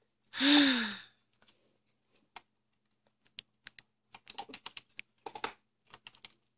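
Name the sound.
computer keyboard typing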